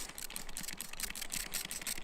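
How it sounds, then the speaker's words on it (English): A poorly working spray bottle misting during winter beehive feeding gives a quick run of short, close hissing squirts in an uneven pumping rhythm, fairly quiet with no talking. "This spray bottle doesn't work very well"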